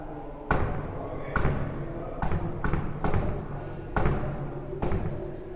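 Knocks on a door for an Arduino 1Sheeld knock-lock with an Android phone, six to seven firm thuds in an uneven pattern, close and fairly loud over low room noise.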